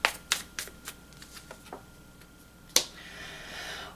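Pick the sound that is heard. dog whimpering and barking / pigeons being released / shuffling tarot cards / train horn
shuffling tarot cards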